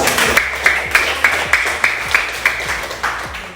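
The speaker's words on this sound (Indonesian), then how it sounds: "Ya, tepuk tangan dong" A classroom group claps in unison, a loud, evenly spaced series of about ten sharp synchronized claps with a steady rhythm, close and alone.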